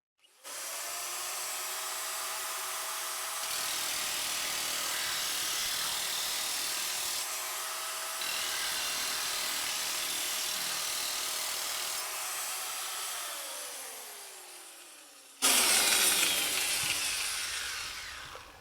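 A corded Parkside electric sheet metal shear whines steadily as it cuts through metal. The close, high-pitched motor drone shifts slightly under load, winds down near the end, then gives way to a brief harsher burst.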